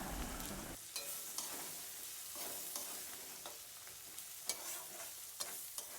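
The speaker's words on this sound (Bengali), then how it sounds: "এবার মশলাটাকে কড়ার মধ্যে দিয়ে দিলাম, দিয়ে ভালো করে এটাকে নেড়ে নেব" Ginger-garlic paste with tomato, chilli powder and turmeric stirred in a hot wok, giving a quiet, continuous sizzle punctuated by regular spatula scrapes and taps, close but soft, with no speech.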